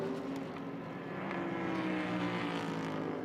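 A Bentley's engine sounds at Indianapolis Motor Speedway, a loud continuous throaty roar that holds steady and swells slightly toward the end, without any voices.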